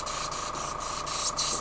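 Water misted from a paint sprayer onto a towel, giving a soft, steady hiss with faint pulsing bursts, quiet and close, with no talking.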